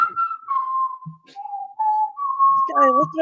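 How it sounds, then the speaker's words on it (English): A person whistles a wavering tune with long held notes and slides, close by, with brief low murmurs of a voice mixed in near the end. "What are you whistling for?"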